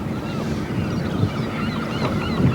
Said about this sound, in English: Mostly all black-headed gulls, I think.